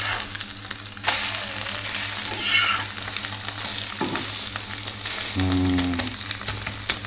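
Eggs for an omelette sizzle and crackle steadily in hot oil in a pan, loud and close, with brief scraping clicks from a utensil stirring throughout.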